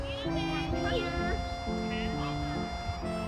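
Goose honking repeatedly in short, nasal calls at a springtime art museum outing in Asan, close and fairly loud, alternating with a voice and other people speaking nearby.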